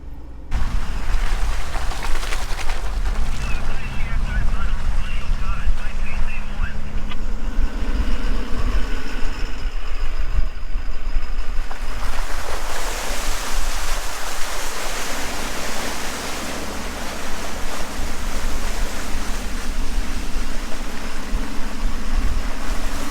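A 4WD pushes through storm water pooled on a Simpson Desert outback track, with a loud continuous rush and churn of water and engine rumble lasting throughout, no voices.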